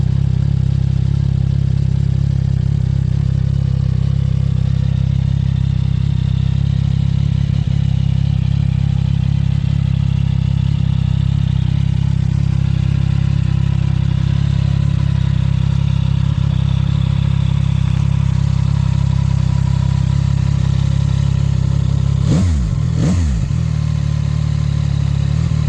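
A 2025 CFMoto 675SS motorcycle engine idles steadily and loudly up close with a deep, even rumble, then gets two quick, sharp throttle blips near the end.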